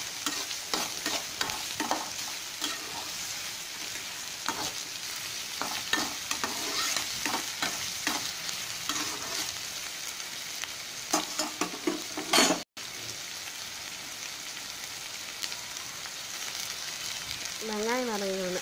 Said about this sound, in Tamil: நல்லா வதக்கலாம் வெங்காயத்தை.